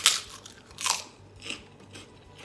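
Crunchy bites of homemade fried pork rinds (chicharrones), several crisp crackling crunches spaced about half a second apart, close and fairly quiet, no talk.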